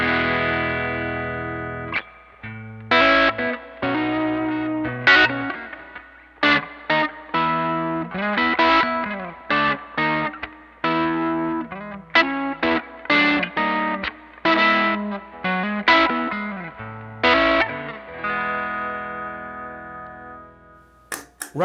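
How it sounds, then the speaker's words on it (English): Guitar loop played through a NUX Steel Singer amp with plenty of gain, a distorted, driven riff of chords and single notes with short pauses, ending on a sustained ringing chord. "So here's the Steel Singer from NUX."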